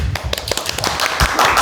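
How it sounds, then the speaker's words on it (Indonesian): An audience applauds at a community gathering, with a scatter of sharp, uneven hand claps that carry on at close range for the whole moment. "Beri tepuk tangan dulu dong."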